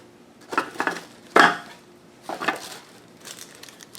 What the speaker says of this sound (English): food processor container here. Now this one is plastic.